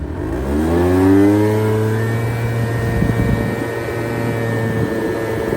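A Piaggio Sfera scooter's small engine revs up close and climbs in pitch as it accelerates on a test ride, then holds a steady, buzzing drone.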